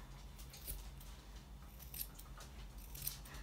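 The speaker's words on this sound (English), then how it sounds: "I use these finer scissors." Fine grooming scissors snip through a Havanese dog's fur in a steady series of light, crisp cuts, close and fairly quiet over a low room hum.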